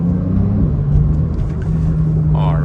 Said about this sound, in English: You hear that exhaust open up.